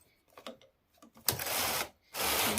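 A hand-operated knitting machine carriage slides across once in two quick, loud rasping sweeps, preceded by softer clicks and taps, close by with no talking.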